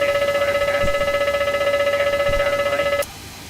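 Boeing 747 fire test warning bell in the X-Plane 12 flight simulator: a loud, steady electronic ringing with rapid repeated pulses lasting about three seconds, then cutting off abruptly, leaving only faint cockpit hum.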